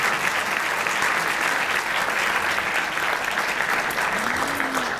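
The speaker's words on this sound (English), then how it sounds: "please give them another round of applause" Audience applause at a university stamp dedication ceremony, a dense, sustained wash of clapping from a large crowd filling the room for several seconds without a break.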